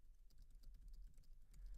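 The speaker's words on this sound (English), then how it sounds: "I'm typing, and this line never ends" Quick, light clicks of typing on a computer keyboard, heard up close as a short, steady stream of keystrokes with no talking.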